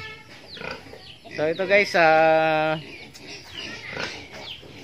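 Farm pigs squeal and grunt around feeding time: one loud, drawn-out squeal stands out among rougher grunting noises, and someone talks over the animals before and after it.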